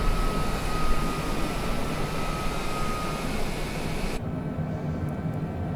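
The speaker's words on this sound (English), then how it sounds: "We'll put down our landing gear." A small airplane in flight on approach with its landing gear lowered, a steady loud broadband engine and wind roar filling the cabin throughout, with no talking.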